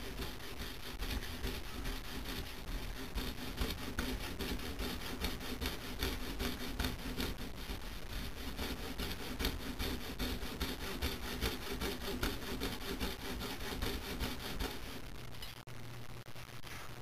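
A hand saw cuts steadily through wood while trimming a kitchen knife handle, a dense continuous rasping of rapid strokes, close and even in loudness throughout.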